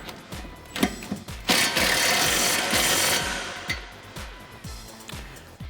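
A hand ratchet with an 18mm socket tightens a ball joint nut on a 2008-2022 Dodge Challenger suspension, giving a steady run of sharp close-up clicks. A louder mechanical whirr briefly cuts in partway through, and no one speaks.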